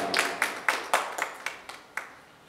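An audience at a debate competition stage event in Nepal claps for a guest called up on stage, a sparse run of separate claps fading over a couple of seconds.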